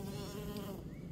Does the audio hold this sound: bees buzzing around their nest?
yes